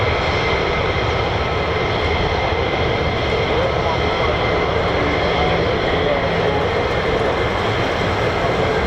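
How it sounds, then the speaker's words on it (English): An F-35 fighter jet flies near RAF Lakenheath, a loud, continuous broadband roar that stays steady without fading throughout. "That is an F-35, I'm sure."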